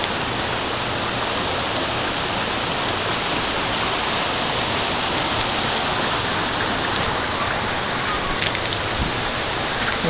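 Waterfall pouring at a mountain cliff-jumping spot, a dense, loud, unbroken roar of rushing water that fills the scene steadily from start to finish.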